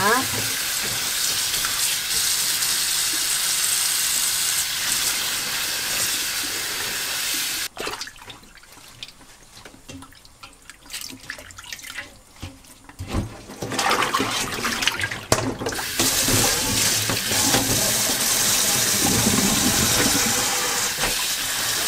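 Tap water pours into a sink while bangpung greens are washed by hand, a loud continuous splashing rush that drops away midway, with lighter dripping and handling, before the strong flow returns.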